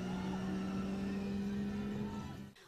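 Radiator Springs Racers ride cars at Cars Land racing past, a loud steady engine-like roar with a strong droning tone that holds for about two seconds, then cuts off abruptly.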